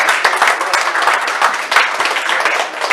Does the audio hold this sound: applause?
yes